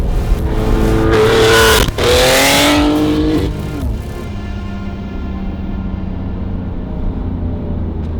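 A BMW G80 M3 and an F80 M3 accelerate hard in a street race, engines revving loudly through rising pitch with a sharp gear-change break, then the roar drops away to a lower steady drone.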